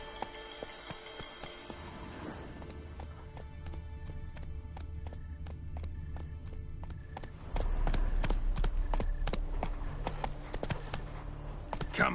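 Roach the horse galloping in The Witcher 3, a steady clip-clop of hooves that grows louder and quicker partway through as the gallop picks up, with ambient game music behind.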